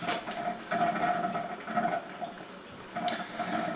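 A drip coffee maker near the end of its brew cycle gurgles and bubbles in uneven bursts, with steady watery hissing and a few louder spurts, heard close up with no talking.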